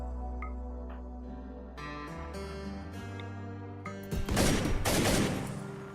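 Gunfire from the video game RimWorld erupts as a loud, dense burst of shots near the end, following a stretch of quieter in-game tones and music.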